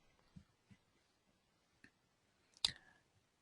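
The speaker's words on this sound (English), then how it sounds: "We can click on OK" Soft mouse clicks tick faintly in a quiet room, a few scattered light taps followed by one sharper, clearer click on an OK button near the end.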